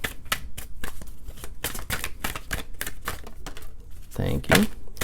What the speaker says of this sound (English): Let's pull some oracle cards for Gemini